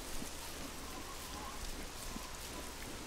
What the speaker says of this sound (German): Das hat doch gerade, wo ich mich eingeloggt habe, schon geregnet. Jetzt regnet schon wieder.